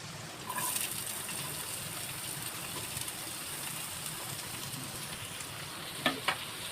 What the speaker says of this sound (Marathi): कांदा तेलामध्ये भाजून घ्यायचे